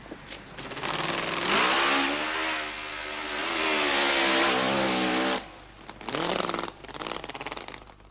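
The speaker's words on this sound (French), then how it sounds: "l'impression de vitesse de ces dragsters qui partent comme des boulets" Dragster cars at a 1980 drag racing event roar loudly as they launch at high speed, a sustained rising engine howl lasting several seconds, then a second burst of revving engines follows after a brief dip.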